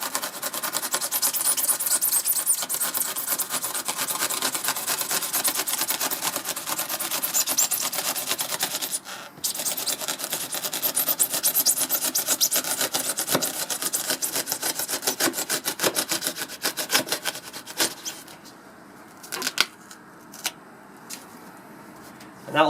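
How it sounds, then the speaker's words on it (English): A Surform file rasps at a foam model railway embankment, producing dense, rapid scratchy strokes that continue steadily before thinning into scattered scrapes toward the end. "start to shape the embankment using the Surform file"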